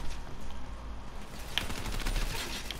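A Dingo machine gun in Call of Duty Black Ops III fires a rapid stream of shots, a quick rattling burst in the latter half, moderately faint under general game ambience.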